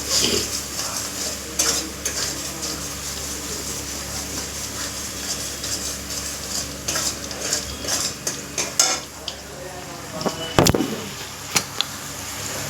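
A metal spatula scrapes and clanks against a pan while onion masala for a fish curry is stirred and fried. Irregular scraping strokes and sharper knocks ride over a soft background sizzle, growing louder toward the end.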